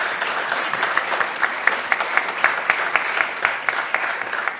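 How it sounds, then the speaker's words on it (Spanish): Audience applause after a university panel discussion on low fertility in Uruguay, a steady patter of many hands clapping at moderate distance, continuing for several seconds with no talk over it. "Primero un aplauso para todos ellos."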